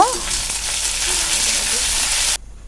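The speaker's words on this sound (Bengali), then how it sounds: "আদা বাটাটা আমার ভাজা হয়ে গেছে" Ginger paste sizzles hissing in hot oil with an occasional stir, then the sizzling cuts off abruptly near the end.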